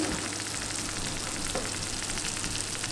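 Hot, freshly baked food crackles and sizzles steadily up close straight from the oven, a busy frying hiss with tiny pops throughout.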